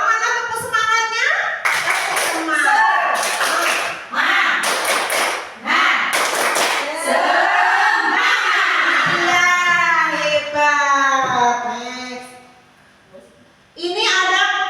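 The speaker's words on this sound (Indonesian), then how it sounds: "Coba mana tepuk semangatnya?" Mothers attending a positive-discipline school workshop perform a spirit clap: bursts of rhythmic group clapping mixed with chanting voices, close and loud, then fading to a brief lull.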